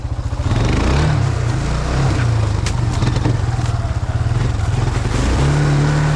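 A Kawasaki Bayou 250 ATV rides outdoors with its engine running loud and close, giving a steady pulsing drone that rises and falls as the throttle changes, with occasional scraping noises.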